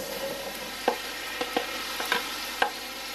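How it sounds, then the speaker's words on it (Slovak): Potatoes and sausages stirred with fried onion and leek in a pot, soft sizzling under a series of scraping utensil knocks spaced irregularly, close and fairly quiet. "premiešam s tou cibulkou a pórikom"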